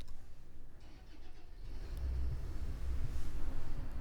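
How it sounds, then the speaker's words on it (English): A car engine starts nearby, a low rumble that builds and grows steadier and louder over a few seconds, heard in a quiet room during a vocal test of a USB audio interface. "That's a car engine starting."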